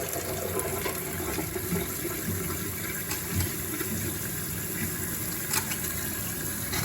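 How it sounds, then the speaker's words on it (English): Water runs steadily through a Sloan urinal flush valve after the supply is reopened, a continuous rushing gush with small splashy fluctuations and no speech. "Let me open up the water."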